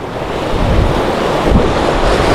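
Ocean waves and strong wind on a small fishing boat out trolling at sea, a loud continuous rush of surf and wind buffeting the microphone, with swells surging louder at moments.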